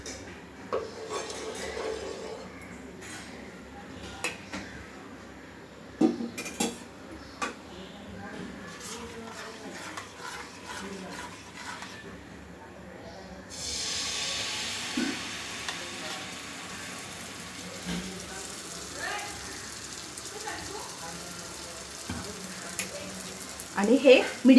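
Oil poured into a hot pan over medium gas for frying malpua starts a steady sizzle partway through, with occasional clinks of utensils against the pan and a voice talking throughout.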